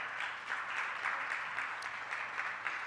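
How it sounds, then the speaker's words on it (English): A symposium audience claps quietly and steadily, a soft distant wash of hands with slight swells and no clear standouts. "I think that deserves a round of applause."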